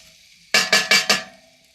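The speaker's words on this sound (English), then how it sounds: "it's just starting to sizzle, so that's nice and hot" Four quick bursts of crackling sizzle from mashed potato in a hot pan on a Kamado Joe, evenly spaced, close and fairly loud, with quiet in between.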